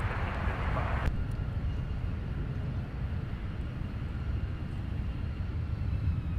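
A Delta heavy jet takes off from runway 17 at Minneapolis–Saint Paul airport, a loud, continuous low engine roar that holds steady, with a brief higher-pitched hiss at the start.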